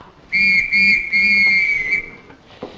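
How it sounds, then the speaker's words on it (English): Three loud, steady fire whistle blasts in quick succession, each a shrill high tone with a slight pause between, followed by faint background noise. "on hearing 3 blasts of the fire whistle"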